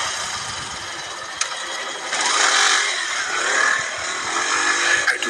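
A motorcycle engine roars at night, its headlight cutting through darkness, a rough, sustained drone that swells and eases over about five seconds with no voices.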